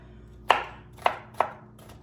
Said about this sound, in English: you're just gonna go and start cutting your pickles up